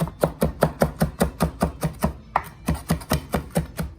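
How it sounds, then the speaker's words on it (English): Rapid, steady knife chops through basil leaves on a cutting board, about four per second, close and crisp, with a brief pause midway. "I'm gonna chop up all these leaves"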